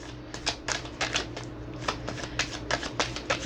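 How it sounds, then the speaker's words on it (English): A deck of tarot cards being shuffled by hand, a run of quick riffling bursts close up, each a crisp papery flutter, repeating in an uneven rhythm over a steady low hum. "I swear I shuffle the hell out of these cards"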